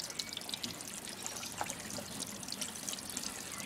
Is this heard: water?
yes